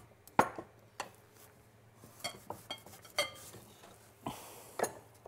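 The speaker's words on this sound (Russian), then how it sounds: "Мелким-мелким кубиком, вот так вот тоненько-тоненько нарезаем." A knife finely dices fried celery root on a board, with sparse, sharp, faint taps at irregular intervals against a quiet kitchen background.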